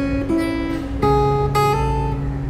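A guitar plays a short lead phrase of sustained single notes over a low bass note, with clean picked attacks and ringing tones.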